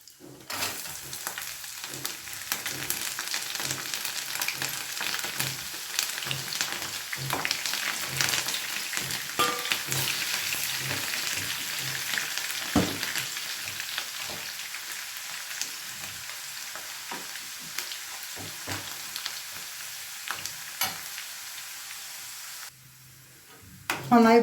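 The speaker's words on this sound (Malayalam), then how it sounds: "നന്നായി ഗോൾഡൻ കളർ ആവണ വരെ മൂപ്പിക്കുക" Garlic and curry leaves fry in hot oil for ginger pickle, making a continuous crackling sizzle with occasional spatters and stirring scrapes, up close, before cutting off abruptly near the end.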